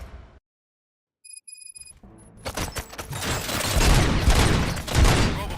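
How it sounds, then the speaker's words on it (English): Gunfire erupts in the first-person shooter Robocop Rogue City, a dense, loud fusillade of rapid shots and booms that builds after a brief silence and a few electronic beeps, sustained and close with no talk. "Gunshots? What's going on?"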